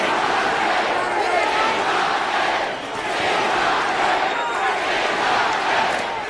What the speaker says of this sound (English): Crowd starting to roar.